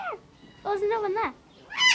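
A parrot at London Zoo screams in its sleep, giving two bursts of harsh, wavering squawks that rise and fall close by, with a third shrill cry starting at the end, against quiet surroundings.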